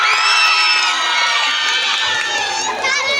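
Loud, dense crowd at a neighborhood barangay fiesta show, children and adults shouting, whooping and cheering together in a sustained roar that holds steady throughout, with scattered high-pitched yells rising above the mass of voices.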